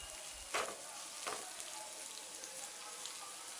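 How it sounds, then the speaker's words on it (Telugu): Garlic cloves and chopped green chillies frying in oil in a pan, a steady soft sizzle with a couple of brief stirring scrapes, fairly quiet and without talk. "వెల్లుల్లి రెమ్మలను వేసుకుని వేపుకున్న తర్వాత తరిగిన పచ్చిమిర్చి కూడా వేసుకుని"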